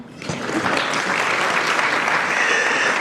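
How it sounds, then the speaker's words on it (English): A breakfast-club audience bursts into applause for GM President Mark Reuss and Roger Penske, a sudden rise into steady, full clapping from a large room that stays strong and even to the end. "You can clap for that"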